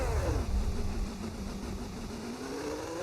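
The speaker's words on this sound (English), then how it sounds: "Looks like that engine might have an issue of some kind." A simulated Formula 1 race car engine from a video game, Barcelona circuit, apparently suffering an engine issue, drones loudly with a rough, wavering tone that sweeps down and back up in pitch.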